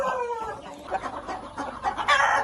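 Brahma chickens clucking close by in a local poultry setting, a quick run of several overlapping clucks and calls without talk.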